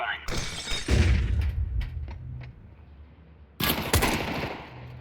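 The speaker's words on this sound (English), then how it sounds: "Deploying flashbang." A flashbang grenade going off in the Counter-Strike 2 video game, a sharp loud bang with a crackling, shattering burst that decays, then a second loud burst later, with game gunfire sounds nearby.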